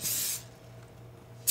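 Cooking spray hisses out of a can in two short loud bursts, one at the start and one at the end, with a quiet kitchen in between while papillote with Swiss chard, sauce and fish is being prepared.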